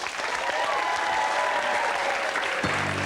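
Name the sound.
audience applause for Paul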